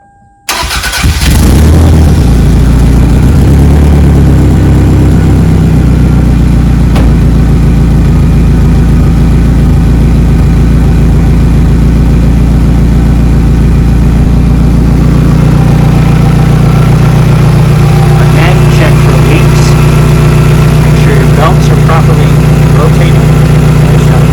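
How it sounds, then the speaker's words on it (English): Toyota Camry engine (1997–2008 model) after a timing belt replacement, cranking and catching, then settling into a loud steady idle that runs on close by. "Time to start the engine."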